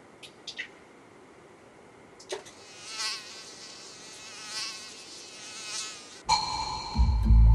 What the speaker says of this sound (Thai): ยุงกัดตรงไหนไม่กัดเล่นหน้ากูเลยเหรอ